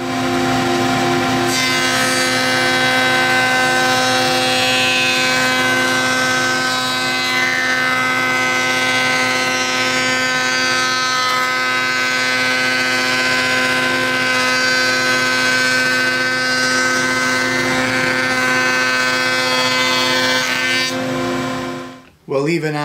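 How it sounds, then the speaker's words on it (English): A router bit cuts wood for tambours in a loud, sustained whine with a steady pitched hum that runs unbroken for about twenty seconds before spinning down abruptly at the end. "let's try it again with a little lighter pass with the router bit"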